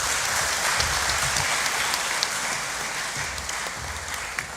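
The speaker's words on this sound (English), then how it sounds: "Please keep clapping until he takes his seat." A conference audience applauds, a dense, even patter of many hands clapping that fills the room for several seconds without letting up.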